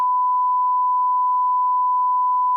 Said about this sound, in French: J'espère que le bip il fonctionnera bien mon gars